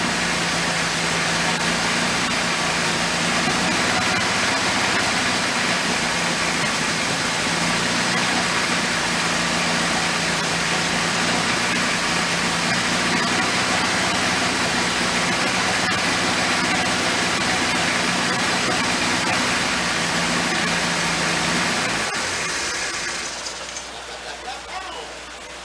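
A 1979 Triumph TR7 engine, running rich on a connected fuel pump, runs steadily and loudly up close with a constant drone, then its note changes and drops near the end.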